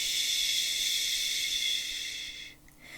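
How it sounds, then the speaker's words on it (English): A person gently and steadily exhales on a sustained "shh", an even, soft hiss of breath that fades out near the end, with no voiced speech. "slowly, and steadily exhale on the sound shh."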